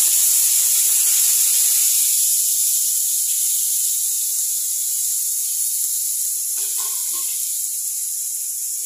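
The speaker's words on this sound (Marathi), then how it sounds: "आता तेल तापायला ठेवले, जिरे मोहरी, एक कांदा बारीक चिरून घेतला" Cumin, mustard seeds and finely chopped onion sizzle loudly in hot oil for lasuni methi, a bright, steady hiss that stays strong and even, with a few crackles late on.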